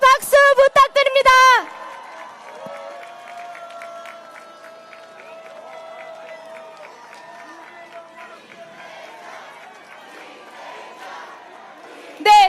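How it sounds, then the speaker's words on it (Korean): A political rally crowd in Yeongdeungpo, Seoul, gives a loud burst of cheering and clapping, then a long quieter stretch with amplified speech and tones, and a brief roar rises again at the end. "뜨거운 함성과 박수 부탁드립니다."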